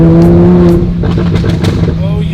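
A rear-engine van's motor revs loudly and accelerates, the engine note rising then settling into a rougher roar, up close, with a voice briefly heard at the start.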